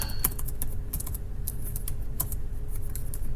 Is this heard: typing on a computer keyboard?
yes